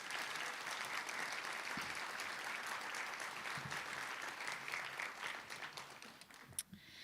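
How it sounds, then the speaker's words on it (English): Sustained audience applause fills a room at a community outlook breakfast, steady clapping that thins out near the end, heard from a moderate distance without talk. "Let's give them all a round of applause."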